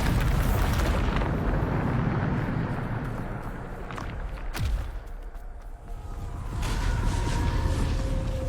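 A Bombarda explosion spell in Hogwarts Legacy: one sharp, booming blast mid-way, followed by a falling whoosh and rumbling debris over a constant roar of combat and effects.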